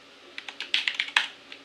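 Quick bursts of typing on a computer keyboard, close and crisp, a short run of about eight keystrokes with small gaps, no voices.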